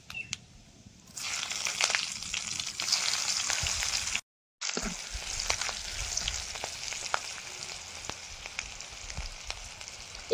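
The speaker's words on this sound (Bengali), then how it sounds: "কতিলা মাছ রান্না করার জন্য তেলের মধ্যে কালো জিরে দিয়ে দেবো" Black cumin seeds and green chillies frying in hot oil for a chapila fish dish, a close, steady hiss and crackle that starts suddenly, breaks off briefly and resumes with scattered pops.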